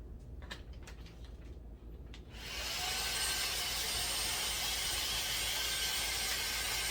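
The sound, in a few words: vacuum sucking air from storage bag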